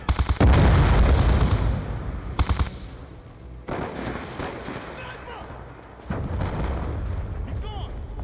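Explosions and heavy gunfire in a combat video game, with loud booming blasts and bursts of shots separated by quieter gaps, a grenade detonation among them, under occasional voices.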